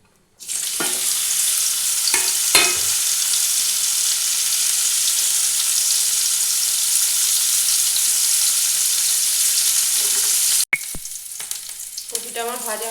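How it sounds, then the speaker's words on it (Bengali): Steamed cauliflower florets fry in hot oil in a kadai, a loud, steady sizzle that runs unbroken for about ten seconds, with a few clatters of stirring early on and a brief break near the end. "কপিটা একটু হালকা ভাপিয়ে নিয়েছিলাম, এবার একটু ভেজে নেব।"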